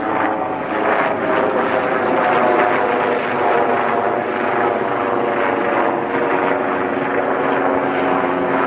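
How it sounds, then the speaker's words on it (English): A helicopter passes overhead above a river, its loud, steady rotor and engine roar filling the scene evenly from start to finish. "just as I start the camera, a helicopter goes over"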